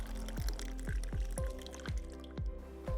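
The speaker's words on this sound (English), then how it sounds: "So now let's test how fast the water drains through the soil that we have just mixed." Water poured onto a freshly mixed succulent soil with a lava rock top dressing drains through it, giving close, steady drips at roughly half-second intervals over a continuous low trickle.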